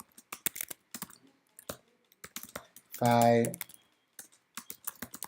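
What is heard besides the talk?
typing on a computer keyboard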